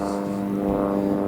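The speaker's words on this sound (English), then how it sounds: "that plane really sets it off" Propeller airplane droning steadily overhead above the North York Moors, a loud, even engine hum holding throughout the short stretch.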